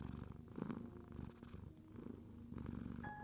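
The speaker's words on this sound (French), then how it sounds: "Tu l'entends même presque ronronner." A cat's soft, rhythmic purr rumbles close by in slow waves, quiet and steady with brief pauses between breaths.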